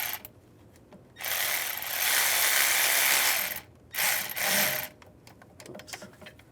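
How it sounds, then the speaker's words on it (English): A ratchet with a 13mm socket backs out bracket bolts on a 2011-2018 Ram 1500 valve cover job, with two bursts of rapid clicking, one long and one shorter, separated by pauses. "Now we're going to take the bolts out for this bracket. I'm going to use a 13mm socket."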